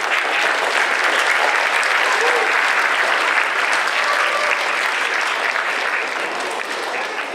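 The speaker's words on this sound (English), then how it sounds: "if we could give him a round of applause" Applause from a school audience at a fourth-grade beginning strings concert, a dense, steady clapping crowd that stays loud for the whole stretch and eases only slightly near the end.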